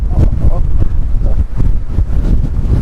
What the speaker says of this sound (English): Unbelievable, so windy. There's no microphone going to be able to cope with it.